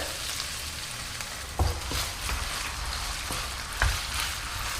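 Pork with ginger and garlic sizzles loudly in a hot pan as the marinade goes in. The crackle is steady and close, with a few sharp utensil taps and stirring scrapes.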